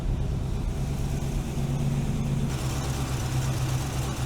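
A TVR V8 engine runs close by with a misfire, a loud, steady, rough low rumble with uneven pulsing and no voices over it.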